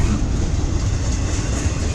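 A big CSX westbound freight train rolls past close by at Fostoria, Ohio, producing a constant loud low rumble and rattling wheel noise from the rail cars, with no talking.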